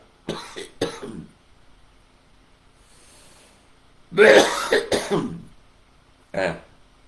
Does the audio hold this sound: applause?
no